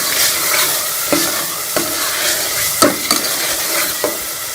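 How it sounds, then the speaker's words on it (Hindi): Green peas stir-fried in masala for an aloo matar curry give a loud, close sizzle with regular scraping strokes of a spoon against the pan. "अब हम इसमें मटर शामिल कर लेंगे। मटर को भी हम मसाले के साथ भून लेंगे।"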